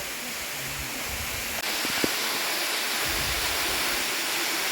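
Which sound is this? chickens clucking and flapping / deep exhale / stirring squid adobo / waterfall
waterfall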